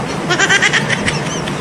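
A short, wavering goat bleat rises and falls over a moment, heard close and fairly loud against a light background.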